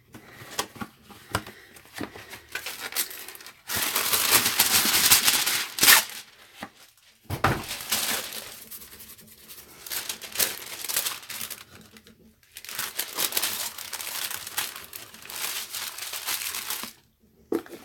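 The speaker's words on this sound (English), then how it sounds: "I should probably put a piece of wax paper down." Wax paper crinkles and rustles close by as it is laid down on an art table, irregular crackling bursts coming and going with brief quiet gaps, no talk over it.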